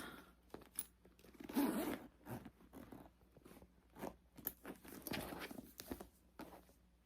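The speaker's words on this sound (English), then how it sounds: "And this zips." A zipper on a big faux leather thrift-store bag being worked, several quick rasping zips in bursts with small handling rustles between them, close and fairly quiet, no talk.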